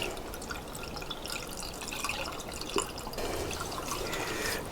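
Liquid pouring steadily into a rebuilt Kawasaki GTR1000 motorcycle engine during filling, a close continuous trickling and splashing stream with a brief knock partway through.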